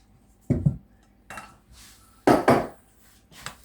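Spatula scraping and knocking through cookie dough of rolled oats and sultanas in a bowl, a few separate thick, clunky strokes with short pauses between them, close by and alone.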